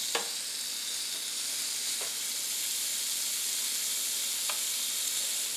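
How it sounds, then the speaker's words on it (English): Bacon sizzles steadily on a George Foreman smokeless digital grill, a constant close hiss broken by a few faint sharp ticks, with no talking. "Let's put the bacon on since it says it's ready. All right, we got a little sizzle action going."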